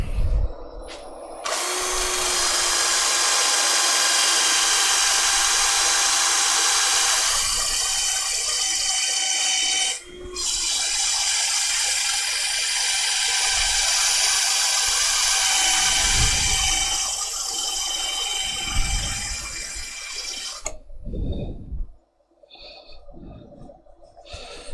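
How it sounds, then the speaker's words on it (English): A power sander works a wood-turned piece on the lathe with a loud, steady high whine for nearly twenty seconds, dipping briefly midway, then cutting off into a few knocks and quieter handling. "So I'm just going to quickly sand this up with the sander."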